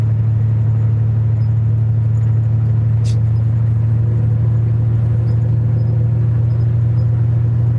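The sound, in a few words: semi truck driving bobtail without a trailer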